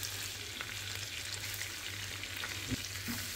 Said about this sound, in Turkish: Rengi dönene kadar karıştırmayı bırakmadan kavuruyoruz.